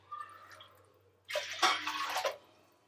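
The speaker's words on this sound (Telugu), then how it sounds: "ఈ ఫ్లేవర్ పోవద్దని మటన్ ఉడకబెట్టుకున్న వాటరు పోసేస్తాం" Mutton cooking water poured onto rice for Nizami-style Hyderabadi mutton biryani: after a near-quiet start, a single close splashing pour lasts about a second, then falls away.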